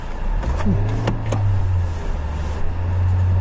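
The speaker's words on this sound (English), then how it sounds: "All right, Nathan, let's take the Fit for a ride." A 2015 Honda Fit hums along on the road with a steady low engine and tire drone, faint interior clicks and a brief rising tone early on.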